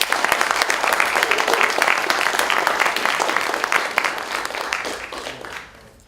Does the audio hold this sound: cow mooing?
no